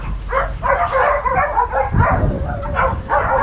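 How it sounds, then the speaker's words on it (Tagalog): Several dogs bark and yip at a breeder's kennel, a loud, busy overlapping chorus close by that runs without pause. "Ang dami aso dito."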